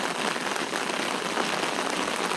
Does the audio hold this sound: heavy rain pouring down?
yes